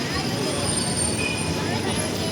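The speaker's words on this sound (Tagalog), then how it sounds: "Ayan po yung LRT guys" LRT light rail train rumbles nearby in a busy Quiapo street near the church, a steady grinding roll with faint high squeal mixed with crowd babble and traffic hubbub.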